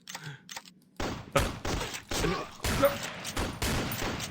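Gunfire in a Flash zombie shooter game: after a quiet start with brief sounds, a run of loud, rapid shots begins about a second in and fires in tight bursts until the end, with no talking.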